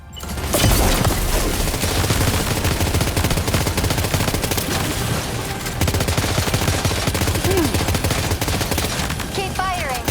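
Sustained rapid gunfire and machine-gun bursts in a Death Stranding 2 firefight, dense and continuous for the whole stretch, with voices calling out beneath the shooting.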